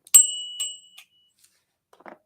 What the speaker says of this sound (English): And they do include a bell